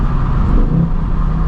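A stock-exhaust 2024 Ford Mustang GT S650 V8 holds a brief, steady, loud, deep low rumble close by, with no clear rise in pitch.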